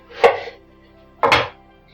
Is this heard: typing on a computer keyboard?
no